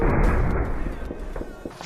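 A single gunshot in PUBG Mobile, a heavy booming report at the start that rings out and fades, with faint thumps after.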